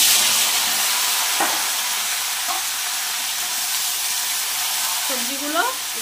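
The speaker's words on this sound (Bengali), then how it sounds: "সবজিগুলো একটু ভেজে নেব।" Vegetables fry in hot oil seasoned with five-spice (panch phoron), giving a steady, close sizzling hiss throughout, with a few faint clinks of stirring and brief voice-like sounds near the end.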